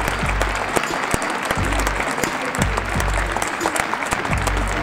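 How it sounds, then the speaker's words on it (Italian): Audience applauding at an art event in Spoleto, a steady dense wash of clapping held at an even level throughout, with faint voices and low music underneath. "Un applauso a Dio, eccolo qui"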